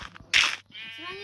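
Sheep bleating in the Minecraft video game, a single loud bleat followed by a second held, wavering bleat, heard alone with no talk over it.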